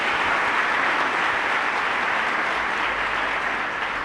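Clapping from a church congregation rolls on as a steady, even roar of many hands, sustained at moderate loudness throughout without any voices.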